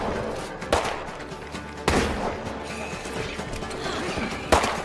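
Gunshots from a firearm in the zombie survival video game State of Decay 2 crack out in a few sharp, loud bursts spaced across the moment, with rattling mechanical clatter between them.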